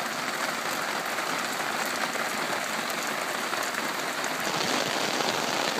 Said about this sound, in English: Got a good rainstorm finally.